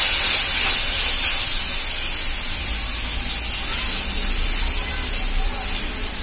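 Cooked moong dal tipped into a hot pan sizzles with a loud, dense hiss that starts strong and eases slightly while continuing steadily, close up in a home kitchen.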